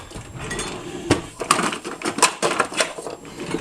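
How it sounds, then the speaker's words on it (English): Dry bacon seasoning is shaken and dumped into a Ziploc bag, a run of close rustling, crinkling plastic with sharp taps and clatters from the container. "This is just my regular bacon seasoning, and I'm just gonna dump this all in there."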